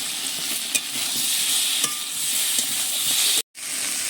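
Tomatoes go into potatoes frying in oil in a pan, giving a steady, loud, close sizzle with a brief clink of a utensil and a sudden cut near the end, with no talk.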